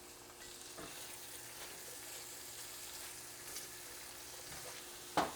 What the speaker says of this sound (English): Let's let those onions saute a bit in that bacon grease.